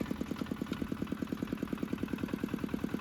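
A motorcycle engine idles with a steady, fast pulsing thump as a learner rider shifts into first gear, close and continuous throughout.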